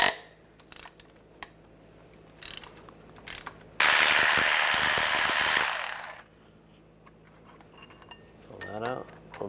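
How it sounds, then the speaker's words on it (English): A 16mm socket ratchet works the upper compressor bolts on a 1999-2005 Volkswagen Jetta, giving scattered close metallic clicks and clinks, then a loud dense two-second burst of rapid ratcheting before quieter taps return. "Using a 16mm socket, you want to take the two upper compressor bolts out."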